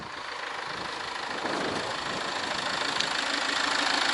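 Engine of a Land Rover Freelander 2 idling steadily, a continuous even hum close by that grows slightly louder toward the end, with no one speaking.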